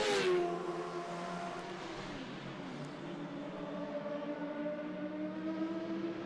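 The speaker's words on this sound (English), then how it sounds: "Great sound as he blasts by the start finish line." A bike-engined 1-litre Jedi race car screams past at a classic circuit race, a loud high-pitched engine note sweeping by up close and then trailing away into a steady distant drone.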